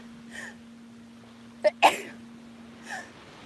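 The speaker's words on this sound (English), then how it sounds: "Oh, I'm gonna sneeze." A single sharp sneeze, preceded by a quick intake, sits in a quiet room with a faint steady hum and soft voice sounds before and after.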